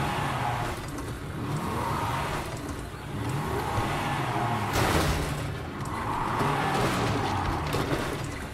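A car engine in Resident Evil 7, revving and accelerating in repeated loud surges with tire noise, close and continuous.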